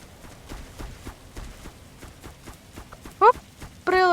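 Steady rhythmic hoofbeats of a galloping horse in a video game, clip-clopping at a quick even pace, followed by a short whinny-like synthetic tone and a louder electronic chime at the end.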